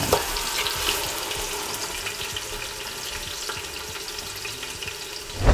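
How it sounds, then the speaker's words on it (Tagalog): Beef searing in a pan for beef mami noodles, a steady crackling sizzle close by with a few louder pops at the start and end, no talking. "isi-sear natin para magkaroon siya ng mild reaction."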